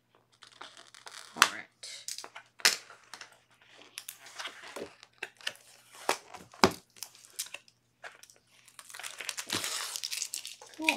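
Plastic wrapping around a paper pad being cut open and torn, with scattered crinkles, rips and rustles in bursts, close by, and a brief spoken remark partway through.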